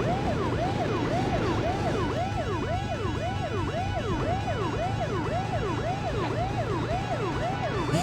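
Police sirens from a PS1 car game whoop up and down in a constant, layered wail, close and loud above a humming engine drone, with nobody talking.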